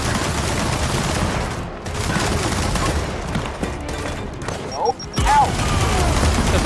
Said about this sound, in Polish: To w nas strzela.